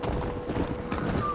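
Horse hooves clip-clop in a steady, fairly close rhythm in the Western video game Red Dead Redemption, with quiet background ambience.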